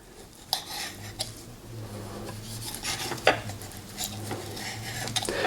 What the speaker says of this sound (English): So I'm just going down the length of it and cutting into strips